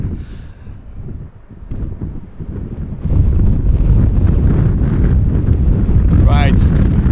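Wind buffets an outdoor microphone at Amsterdam Schiphol Airport, a low rumbling roar that grows louder and more constant after a few seconds, with a brief rising whistle near the end.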